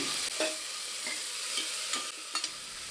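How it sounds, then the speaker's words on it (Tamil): Steady sizzling of onions sautéing in a pan, with a few soft scrapes and stirs of a utensil, close and continuous, no voices. "இப்போ வெங்காயமும் நல்லா வதங்கி வந்துச்சுங்க"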